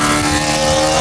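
An engine-swapped BMW street car with an Acura muffler and Super Sprint exhaust, a brief loud, steady engine drone with a buzzy exhaust note.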